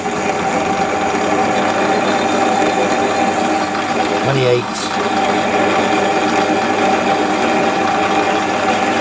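Steady mechanical grinding and whirring of a hand-cranked drill boring through metal, continuous and close, with a brief spoken number partway through.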